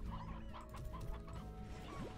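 Chickens in a ranching video game cluck busily and continuously, several birds close by with overlapping short calls and no voices.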